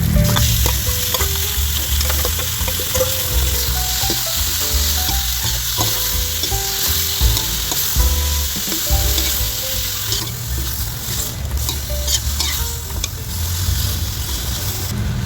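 Marinated pork cubes for menudo sizzle loudly and continuously in a hot pan, with scraping stirs and occasional clinks over the steady frying crackle.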